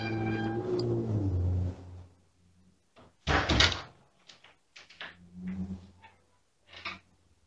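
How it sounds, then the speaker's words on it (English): An attic door moving with no one touching it, captured by a home security camera: a sharp thud and rattle, then several scattered knocks and creaks against a quiet background. "The door moves by itself"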